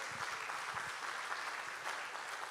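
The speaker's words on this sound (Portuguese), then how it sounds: "dá uma salva de palmas mais uma vez ao Senhor." Church congregation applause fills the sanctuary, a soft, distant, continuous patter of many hands with a low murmur beneath.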